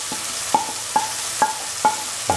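A spoon stirs green chilies, coriander powder, garam masala, pepper powder, turmeric and salt into an onion, garlic and tomato mixture in a pan for keto chicken rice, making about six steady, evenly spaced scraping strokes, close and clear, with no talking.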